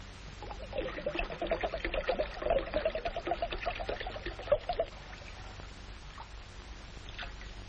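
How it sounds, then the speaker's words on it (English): Grape juice poured into a bowl, a soft continuous trickling of liquid for several seconds that tapers off, fairly close, with faint room noise and no talk. "pour it in the bowl, William."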